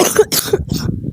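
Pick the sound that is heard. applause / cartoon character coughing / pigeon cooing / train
cartoon character coughing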